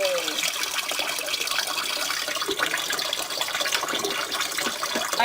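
Water trickles and gurgles steadily as it drains slowly through a clogged garbage disposal in a kitchen sink, a continuous close splashing wash with no voices.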